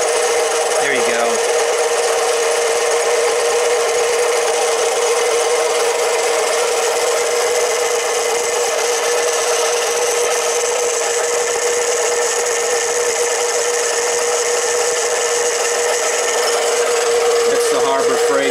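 Harbor Freight 93212 7x10 mini lathe cutting a 304 stainless steel bolt, a loud, steady high-pitched whine and grinding hum sustained for the whole stretch with little variation.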